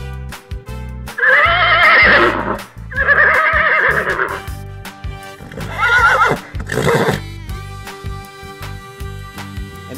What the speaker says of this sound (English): So horse is a very beautiful and big animal